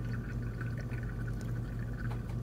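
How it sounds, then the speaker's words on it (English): Water poured steadily over coffee grounds in a pour-over filter, a soft continuous trickling stream heard up close with no talking. "I pour 100 grams of water, and when it's about to drain, I'm going to add another pour up to 220 grams of total water."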